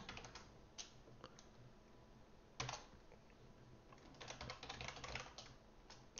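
Typing on an external computer keyboard, close and faint, with sparse individual key clicks that gather into quicker bursts of keystrokes and no talk.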